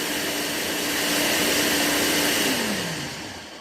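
A blender liquefies jalapeno hot sauce with a loud, steady motor whine that rises a little, then its pitch drops and the volume falls away near the end. There is no talking.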